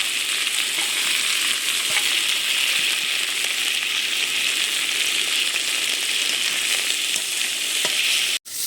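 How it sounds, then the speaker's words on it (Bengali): Mung dal fries in white oil in a wok with a loud, dense, continuous sizzle and faint stirring scrapes throughout, ending in a sudden brief cut. No voices are heard. "মুগ ডালটা আমি ভেজে নিচ্ছি, ধুয়ে আর ভেজে নিচ্ছি"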